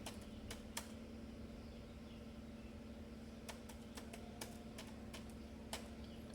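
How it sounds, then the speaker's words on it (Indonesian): Faint clicks of keys being pressed on a computer keyboard while typing commands, a few isolated taps then a quicker run of keystrokes over a low steady hum. "Ketik lagi perintah seperti ini"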